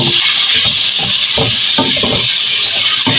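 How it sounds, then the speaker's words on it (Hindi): Chicken pieces sautéing with ginger and garlic in a pan, a loud continuous sizzle and hiss with intermittent scraping and stirring knocks. "चिकन को आपने सौटे कर लेना है।"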